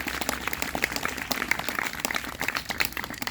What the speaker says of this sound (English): So a round of applause for my family